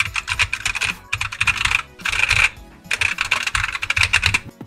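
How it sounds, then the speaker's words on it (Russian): Rapid typing on a non-mechanical computer keyboard, close and distinct, in three bursts of dense key clicks separated by brief pauses. "у меня клавиатура не механика"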